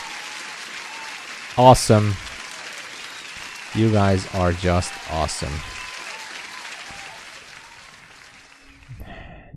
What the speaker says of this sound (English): let me give one more applause to everybody